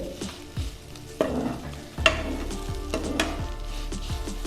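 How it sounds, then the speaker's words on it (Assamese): Tamarind frying and being stirred in a pan for an Assamese taro-leaf recipe, with a continuous sizzle broken by several distinct scraping strokes of the spatula, close and fairly loud. "এয়া মই ভাজি আছোঁ, টেঙাখিনি প্ৰায় সিজিলে, অকণমান আৰু সিজালৈ ভাজি আছোঁ"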